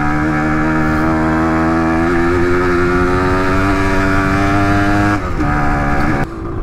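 A 1978 Kawasaki KE100 motorcycle being ridden on a small back road, its loud, close two-stroke engine buzzing steadily with pitch climbing and shifting as it accelerates, then dropping off near the end.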